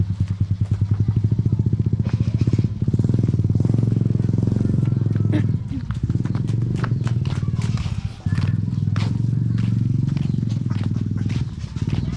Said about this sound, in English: Awas, ada motor